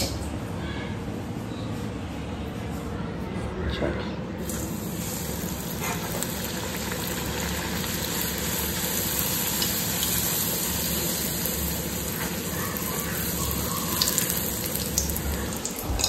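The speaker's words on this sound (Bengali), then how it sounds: "আমি এখানে লুচিটা পটাপট করে আগে ভেজে নেবো" Luchi, the puffed flatbread, frying in hot oil on a Sunday morning, a continuous dense sizzle with light clinks and bubbling that runs steadily and close for the whole stretch, with no voices.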